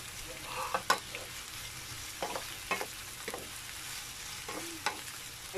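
Sliced large onion frying for Indonesian sambal in a full pan, giving a quiet steady sizzle with scattered stirring scrapes and knocks.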